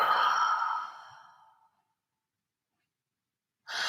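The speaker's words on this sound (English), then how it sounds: "Big exhale out your mouth. Let it go. Let it be audible." A big audible exhale out the mouth during a HIIT Pilates class, one long breathy sigh trailing off into silence, close and clear, with the start of another breath at the end.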